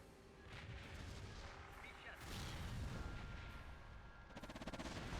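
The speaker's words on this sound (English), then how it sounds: "Wait for the artillery to stop." Artillery fire in the WWII strategy game Theatre of War, France 1940: continuous rumbling booms and blasts overlapping into a dense, heavy barrage, ending in a rapid rattling burst like machine-gun fire.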